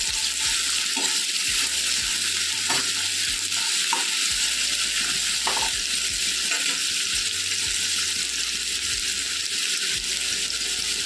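Chopped onion sizzles steadily in hot oil for a bittergourd fry, a loud, even frying hiss with a few soft clinks of stirring throughout.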